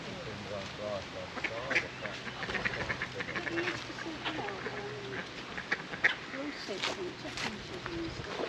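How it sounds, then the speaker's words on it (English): Ducks and geese quack and honk in a Sheffield park, scattered calls at a moderate distance mixed with other birds, with faint talking in the background. "There's plenty of other bird life here in the park too."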